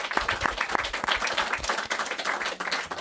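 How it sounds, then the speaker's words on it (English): A small audience claps, uneven and close, with individual hand claps standing out in a brisk irregular patter for a few seconds. "Well, I think that deserves a round of applause."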